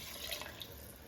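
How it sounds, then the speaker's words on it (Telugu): Water pours from a jug over goat head and leg pieces in a pot, making a faint, brief, steady splashing trickle with no voices. "ఇప్పుడు ఈ ముక్కలు మునిగేంత వరకు మనం నీళ్ళు పోసుకోవాలి"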